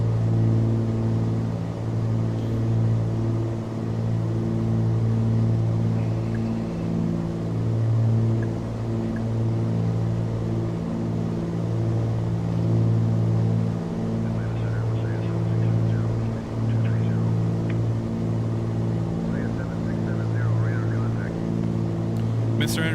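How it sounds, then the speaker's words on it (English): Twin piston engines of a Flysimware Cessna 414 Chancellor in MSFS 2024 drone steadily, a loud, even, harmonic hum that holds for the whole stretch with little change in pitch. "Love the engine sounds on the Flysimware Chancellor."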